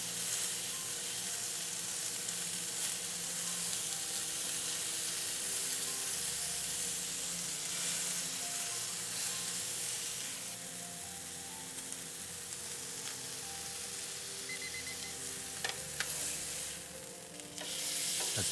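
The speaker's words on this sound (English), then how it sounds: "I'm going to add a little bit of butter to it" A flat iron steak fries with butter in a hot pan, giving a loud, continuous close-up sizzle and crackle that holds steady throughout, with occasional stirring and spattering bursts and no talk.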